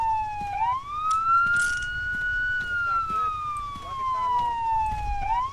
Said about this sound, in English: Can you turn the sirens off?